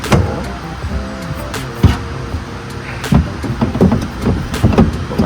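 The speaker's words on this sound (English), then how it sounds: "So this is the double-sided motor." Double-sided motor of a suction door running, a steady mechanical hum with scattered clunks and knocks from the door hardware, heard close with no talking.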